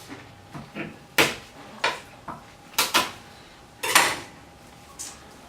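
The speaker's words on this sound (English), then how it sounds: "I press it down with a knife to break the skin" Garlic cloves pressed down under a kitchen knife on a board to crack their skins, giving a series of sharp knocks and clacks spaced about a second apart, close up, with no talking.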